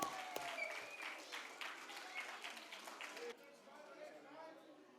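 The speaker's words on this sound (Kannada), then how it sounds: "ಎಲ್ಲರೂ ಒಂದು great applause, one more time, ಕಮಾನ್." An audience at a Kannada cultural event claps at close range, dense and steady, then thins to looser scattered claps for the last couple of seconds, with crowd voices mixed in.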